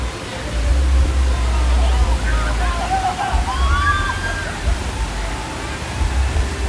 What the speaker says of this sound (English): Smoky Mountain River Rampage simulates white water streams for our guests to enjoy